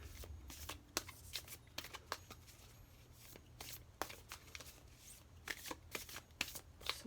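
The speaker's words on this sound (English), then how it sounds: "So I'm going to give them a good shuffle" A deck of oracle cards is shuffled close up, with quick, repeated riffling snaps in irregular bursts, soft and intimate with no talk.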